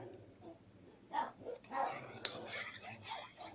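An old dog that can no longer hear or see lets out a few deep, muffled barks in short bursts, faint and distant against a quiet room background.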